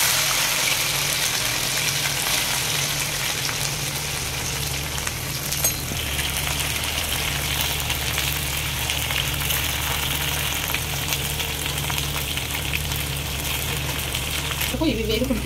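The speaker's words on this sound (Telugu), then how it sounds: "ఇవి వేగుకుంటుంటాయండి" Peanuts, garlic and curry leaves deep-frying in hot oil in a kadai for a wedding-style ivy gourd fry, a steady dense sizzle and crackle running throughout at close range, with a brief clatter near the end.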